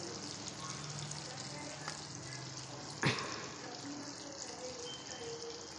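Bitter gourd frying in a pan for a curry, a steady soft sizzle and bubbling throughout, with one brief scraping stir or clatter midway.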